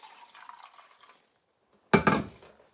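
A faint trickle gives way to a short, close splash of water poured into a glass, then quiet.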